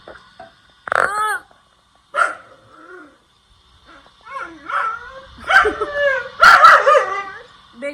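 A pet dog makes talkative, whiny vocalizations instead of barks, a series of short yips, whimpers and warbling moans with pauses between, close and fairly loud.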